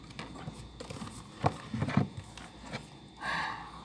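A few hollow hoof clops and scuffs from a horse, fairly quiet, with a brief snort-like rush near the end.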